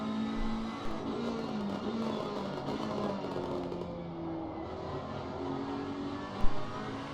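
GT3 race car on an onboard qualifying lap at Misano, heard as a steady engine drone that rises and falls through gear changes, with one brief thump near the end.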